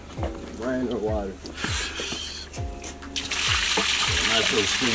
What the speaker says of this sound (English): Natural spring water.